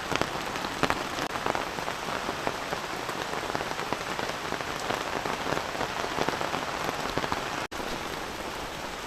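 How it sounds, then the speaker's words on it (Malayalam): Heavy rain pours steadily throughout, a dense continuous hiss of drops with one brief dropout near the end. "ഇവിടെ അത്യാവശ്യം നല്ല മഴയാണ്."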